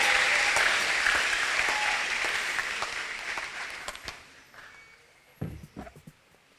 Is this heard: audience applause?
yes